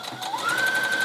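A sewing machine stitches a neckband onto a top's bodice, a steady close whirring run with a rising pitch as it speeds up, alone without talk.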